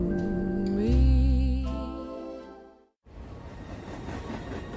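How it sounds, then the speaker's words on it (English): A train runs along the tracks, a broad rushing rumble that follows a brief tonal passage and a short drop to near silence. "Trains that use the power of Dell AI and Intel to see hundreds of miles of tracks"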